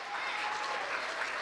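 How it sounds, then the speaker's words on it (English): A chemistry demo night audience applauds steadily for a student team, a continuous, fairly faint wash of clapping that holds level throughout without a break. "Get a round of applause for Team Chemist again."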